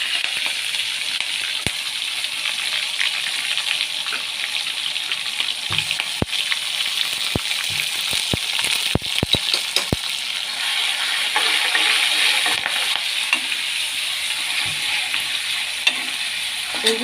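Curry leaves and ginger fry in hot oil for a Toor dal mutton sambar, giving a steady close sizzle throughout with a few sharp clicks and taps of a utensil against the pan.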